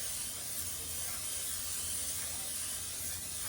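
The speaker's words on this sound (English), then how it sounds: "So we're gonna spray our pan" A continuous, steady hiss of cooking spray onto a cake pan, held for several seconds, faint and even, with no talking.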